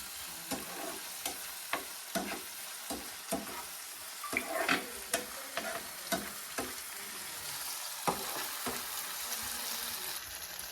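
Ginger garlic paste fries in a pan for a freshwater mussel dish, a continuous sizzle broken by repeated scraping strokes of a spoon stirring it, close and fairly even.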